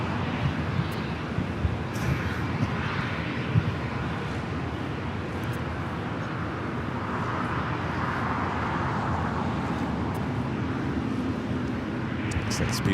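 A Boeing 777-200ER airliner taxiing at Los Angeles International Airport, a steady broadband jet rumble and roar that holds at an even level throughout, with a few faint higher sounds from the surrounding airfield.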